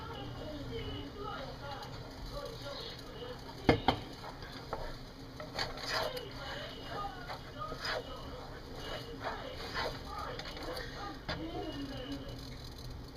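A spoon stirs thickening marshmallow fudge in a pot, giving a steady scraping and knocking with a few sharp clacks, close and fairly quiet, while a person talks over it.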